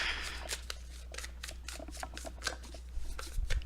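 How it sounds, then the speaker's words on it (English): Tarot cards are shuffled up close in a quick run of soft rhythmic riffling flicks, about a dozen crisp bursts in a row in a quiet room. "Just one more shuffle there, as you can hear."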